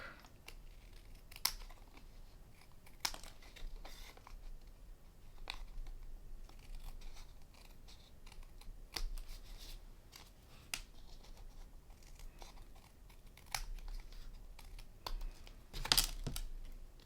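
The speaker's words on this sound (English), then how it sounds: "I'm going to use scissors, and we're going to cut it along the back." Scissors snip along the back of a handmade card in a quiet room, giving a series of sharp, faint, irregular cuts and crisp paper sounds close by, without talk.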